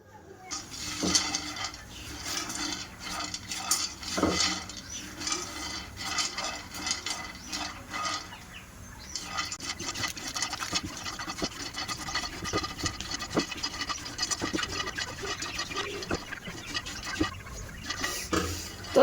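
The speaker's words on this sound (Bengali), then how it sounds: "এবার ছোলাগুলো আমি সব ভাজা করে নেব" Chickpeas dry-roasting in a frying pan give a steady, busy scratching and rattling as they are stirred and shaken, with sharper clicks now and then, close and fairly loud throughout.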